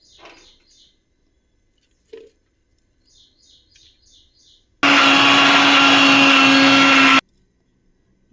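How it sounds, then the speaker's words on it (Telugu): A kitchen mixer grinder blending beetroot, carrot and tomato for juice runs in one loud, steady whirring burst of about two seconds, with faint bird chirps and quiet knocks before it. "జ్యూస్ అయితే మిక్సీ పట్టేశానండి"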